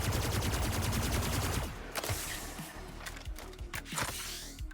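Plasma rifle in the video game Splitgate fires a rapid, dense stream of regular shots for about a second and a half, then stops and gives way to scattered clicks and mechanical clatter, with no talk.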